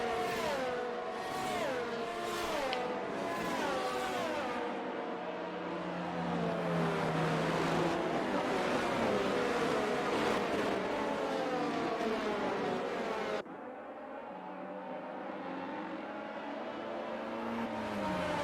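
Race car engines drone through a rolling start in a racing video game at the France Grand Prix, several high whining engines layered together, rising and falling steadily, then cutting to a quieter, lower engine tone.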